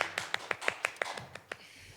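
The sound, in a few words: golf clap, soft clapping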